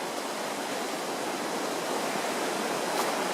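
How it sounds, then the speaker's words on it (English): A rocky river near an abandoned road between Blairgowrie and Glenshee in Scotland, running high after rain, rushes in a dense, even roar of white water, loud and unbroken with no voices. "I think the river today is higher than the last time I came."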